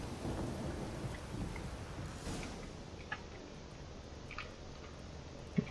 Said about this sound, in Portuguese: Nossa, mas essa tempestade também me assusta.